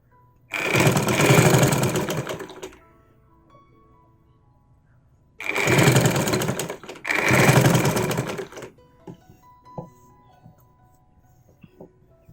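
A sewing machine stitches a zip into the front neck of a nighty in three loud close bursts, two of them back to back, separated by quiet handling noises.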